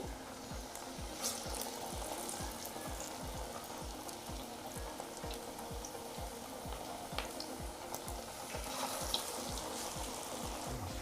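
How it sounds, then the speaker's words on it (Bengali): Cabbage fritters (pakoras) frying in hot oil give a steady, soft bubbling sizzle, with a regular low pulsing underneath and a few faint clinks. "এবার আমি বড়াগুলো তেলের মধ্যে দিয়ে ভেজে নেব।"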